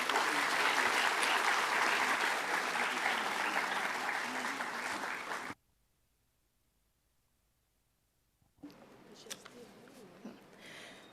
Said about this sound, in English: Kindly welcome our dignitaries for the day with a huge round of applause.